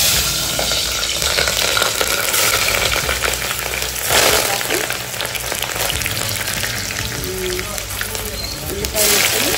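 Green chillies frying in hot oil in a street-food style mutton curry, a steady loud sizzle with stirring, while someone speaks over it.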